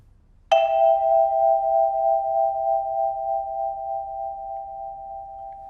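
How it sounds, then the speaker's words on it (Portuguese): A single vibraphone bar is struck once with its vibrato motor switched on, giving a clear, bright metallic tone that rings for several seconds with a gentle pulsing waver as it slowly fades. "Agora com o motor ligado."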